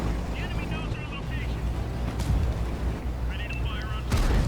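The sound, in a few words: tank cannon shot hitting a Centurion's turret, World of Tanks video game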